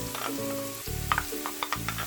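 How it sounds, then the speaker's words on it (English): Onion dropping into hot canola oil in a frying pan sizzles loudly, with bursts of crackle and a few stirring scrapes, close up and with no voices. "When the oil is hot enough, I'm going to add the onion"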